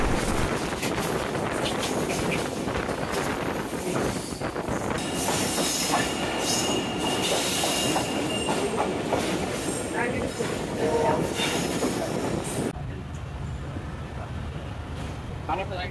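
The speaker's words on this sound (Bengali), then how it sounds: "রাজশাহী থেকে ছেড়ে আসা ঢাকা অভিমুখী আন্তনগর বনলতা এক্সপ্রেস" The Banalata Express intercity train, bound for Dhaka from Rajshahi, runs past near Banani railway station with a heavy rumble, clattering wheels and brief squeals, then fades to a lower rumble near the end as voices murmur underneath.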